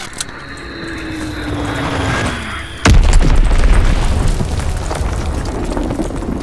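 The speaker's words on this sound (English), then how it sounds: "Enemy bomb incoming." A bomb explosion in the Call of Duty: WWII game, a sudden heavy boom that cuts in after a descending whistle over engine and battle noise, leaving a loud rumbling roar that slowly fades.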